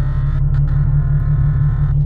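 Nissan 370Z engine under hard acceleration, heard as a steady, loud, low droning rumble from inside the car that holds constant throughout the short stretch.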